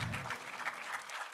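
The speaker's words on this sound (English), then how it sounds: "Give him a big round of applause." Conference audience at an AI congress and awards event in Pune applauding a session moderator, brief, fairly faint clapping from a crowd that starts full and thins slightly toward the end.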